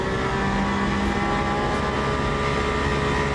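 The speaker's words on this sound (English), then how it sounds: "Oh, this car sounds so good. I want to just crank up the noise." Race car engine in a racing video game, a steady loud drone holding a constant pitch with a sustained whine throughout, no talk over it.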